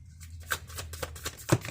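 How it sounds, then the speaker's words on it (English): A deck of tarot cards is shuffled by hand in a few quick riffling bursts, close and fairly soft, with no talking. "I did already shuffle these cards, but I like to do a little bit more."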